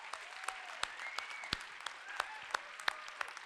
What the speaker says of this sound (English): I have to thank my staff. A great big please, applause for Alex, Jenny, Laura, Manisha, and Faith.